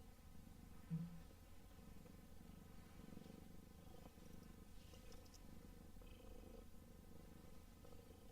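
A house cat purring close by in a quiet room, a low steady continuous rumble with a faint soft bump near the start and no talking.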